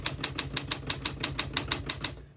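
Close, crisp typing on a 1963 Smith-Corona Classic 12 vintage portable typewriter: about a dozen sharp key strikes in a steady, even rhythm, with no voices.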